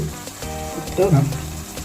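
A little water poured into a simmering red-chili threadfin bream fish curry with kudampuli, hissing and sizzling briefly against the hot pan, close up, with a voice talking over it.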